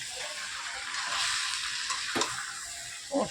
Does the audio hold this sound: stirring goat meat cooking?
yes